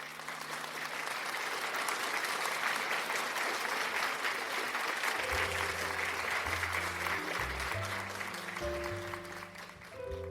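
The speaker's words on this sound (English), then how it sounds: "let's give them a round of applause." Studio audience applause for the new studs on a show, a sustained broad wash of clapping that holds throughout, with music entering underneath about halfway through.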